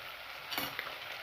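Soft, steady sizzling of ghee boiling as it is rendered, with a brief stirring scrape in the middle, close and quiet.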